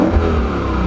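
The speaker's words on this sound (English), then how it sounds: "Oh man, that engine just sounds heavenly. I love the sound of a V8" A 2015 Lexus RC F's 460-horsepower V8 rumbles in a short, steady burst of engine revving, close and fairly loud, with no talk over it.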